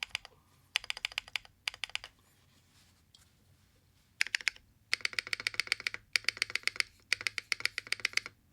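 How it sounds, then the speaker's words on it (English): Typing on an Infinite70 custom mechanical keyboard with a distinct backspace key: close, crisp clacky keystrokes in fast bursts separated by short pauses, no talking. "I like how the backspace sounds."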